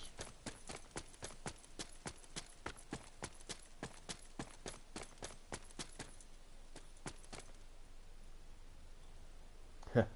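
Horse hooves clop in a steady, brisk rhythm, then thin out and stop, leaving quiet ambience and a single soft knock at the end.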